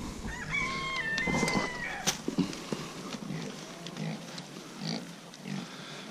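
American guinea hogs grunting on a farm at feeding time, mixed with a rooster crowing and hens clucking nearby, all at moderate distance over steady outdoor ambience.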